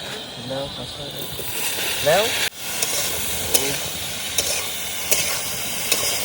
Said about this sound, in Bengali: এর মধ্যে ফুলকপিটা মটরটা দিয়ে কষিয়ে নেবো